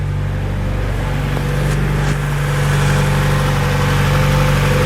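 A Honda Civic EG hatchback's B16A engine, newly fitted with a Skunk2 intake manifold, idles smoothly and steadily, a low, even hum up close that swells slightly toward the end.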